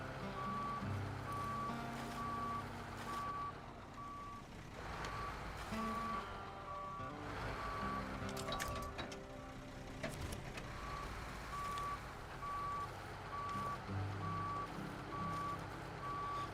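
A heavy truck in the off-road driving game SnowRunner reverses and strains: a steady reversing beeper repeats over a low, labouring engine drone, with a few clanks and bumps along the way, mid-distance and fairly quiet.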